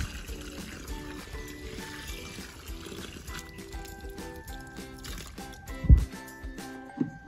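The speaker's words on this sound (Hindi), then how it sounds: "अभी हम इसमें पानी वो कम ही डालेंगे।" Water poured sparingly into a potted apple sapling, a soft continuous trickle with a few louder splashes near the end, heard fairly close and without talk.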